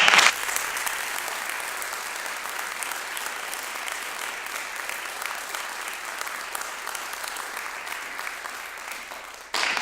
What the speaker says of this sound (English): Let's give all the performers and our faculty members today one more round of applause